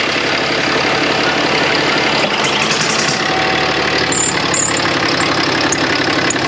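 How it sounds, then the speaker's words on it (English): Truck engine idling loudly up close with a faulty pulley, alternator or tensioner, giving a steady mechanical drone with a knocking, rattling texture throughout. "There's definitely something going on in the pulley system, like an alternator or an idler or a tensioner."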